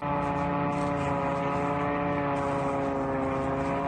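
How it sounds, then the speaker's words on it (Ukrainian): A drone's engine drones steadily overhead in a loud, continuous propeller-like hum with a stable buzzing pitch, sounding alone without voices for the whole stretch. "у небі знову залунало знайоме до болю ревіння мотора безпілотника"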